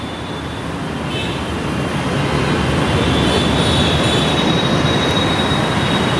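A Mumbai metro train at Goregaon station rumbles steadily and loudly, with a constant roar of wheels on rails and faint high squeals throughout, no voices.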